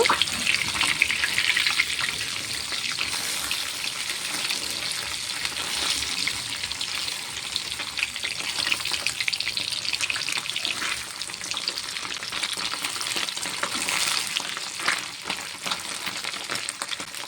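Parshe fish frying in oil in a wok and being turned over, a dense, continuous sizzling hiss with faint crackles that stays fairly loud and even throughout.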